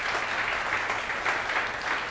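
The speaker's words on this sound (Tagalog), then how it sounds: "palakpak ng the best para kay Jesus." A church congregation claps in praise for Jesus during a Filipino worship service: steady, dense applause spread across the room, holding an even level throughout without a break.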